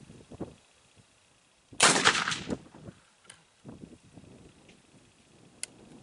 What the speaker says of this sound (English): And shoot at the top one.